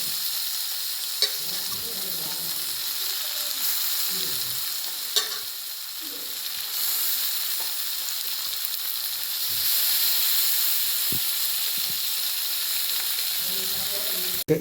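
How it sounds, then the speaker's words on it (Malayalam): Black pepper, ginger and garlic frying in a pan as the base of a beef curry, a steady close hiss and crackle with occasional stirring scrapes and knocks, heard alone throughout. "കുരുമുളക് ഇഞ്ചി വെളുത്തുള്ളി ഇതെല്ലാം കൂടെ ഒന്ന് ജസ്റ്റ് ഫ്രൈ ചെയ്തെടുക്കാം"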